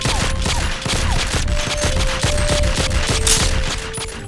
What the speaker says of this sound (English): when we see the guns fire, we expect to hear the sound of the gunshots